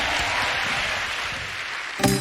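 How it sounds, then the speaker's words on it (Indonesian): Hand clapping from a congregation at an online worship service forms a dense, continuous wash of applause that holds steady throughout, and a voice breaks in briefly at the very end. "Tepuk tangan bagi Tuhan yang luar biasa."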